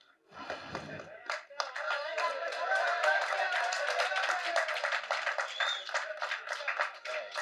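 A crowd at a Tamil film event claps in a dense, steady burst that starts a second in and keeps going for several seconds, fairly loud, with a short voice at the very start.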